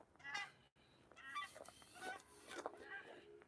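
Geese honk repeatedly overhead above a lake on a snowy walk in Regina, a flock of calls overlapping at moderate distance, fairly faint and broken by a brief gap.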